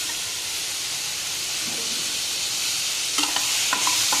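Ivy gourd and tomatoes being sautéed in a pan make a steady, close, hissing sizzle, with a few sharper stirring clicks toward the end and no speech.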